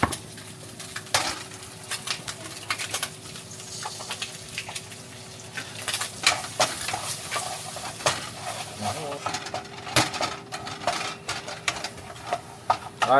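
An egg fries in oil in a pan for lazy fried rice, with a steady sizzle beneath repeated scraping and clattering of a utensil against the pan, stirring strokes coming in bursts.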